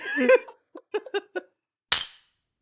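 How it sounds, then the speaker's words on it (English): Drinking glasses clink together once, a single bright, sharp strike that rings briefly, following a few short bursts of voices from people in a podcast studio. "Clink."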